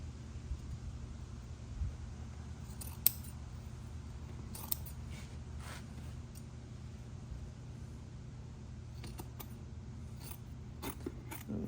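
Scissors cut through upholstery batting with quiet, scattered snips and crunches over a low steady room hum.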